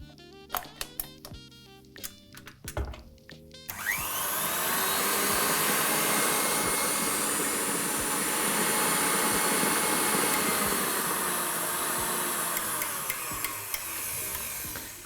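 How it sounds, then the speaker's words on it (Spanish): An electric mixer beats lemon cake batter at full speed with a loud, steady, rushing whir that holds for more than ten seconds, after a short stretch of music at the start. "vamos a batir un minuto más"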